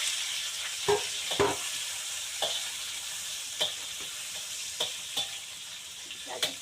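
Salt-and-black-pepper marinated shrimp fry in a pan with ginger, making a continuous close sizzle broken by about a dozen sharp scraping stirs at uneven intervals.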